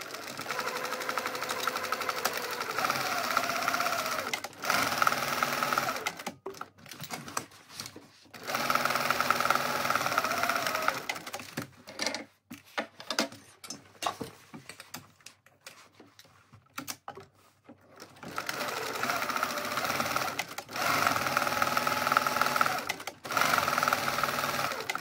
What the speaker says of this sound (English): I'm going to sew both of these pockets closed